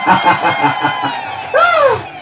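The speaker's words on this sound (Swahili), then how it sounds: "Makofi na vigelegele havitoshi wakina mama." Women applauding and ululating at a primary school graduation ceremony in Singida: a stretch of rhythmic clapping and cheering, then a loud, wavering high ululation rising over the crowd.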